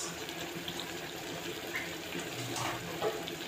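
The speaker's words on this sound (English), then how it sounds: "Should I add cold water?" Cold water running steadily from a tap into a sink, a continuous close splashing hiss with slight gurgles.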